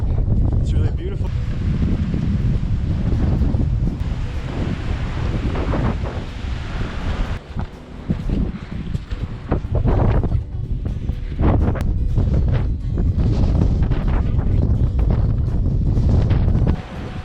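Strong wind buffeting the microphone on the Aconcagua mountain trail near a bridge crossing, a loud continuous roar with gusty swells and rumbling low end throughout, no clear voices.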